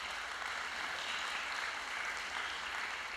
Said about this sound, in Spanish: Un aplauso para los maracayeros que vienen de allá a Maracay